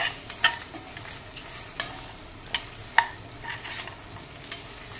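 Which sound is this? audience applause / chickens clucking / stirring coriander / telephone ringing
stirring coriander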